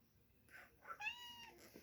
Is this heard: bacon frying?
no